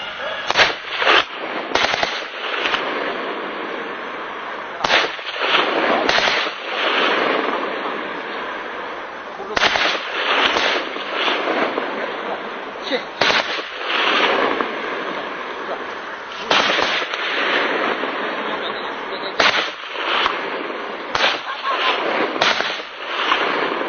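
Gunfire during a police ambush on a bridge, with a 79-type sniper rifle and an 81-type automatic rifle, comes as loud, sharp repeated reports and bursts over a continuous noisy background, lasting throughout.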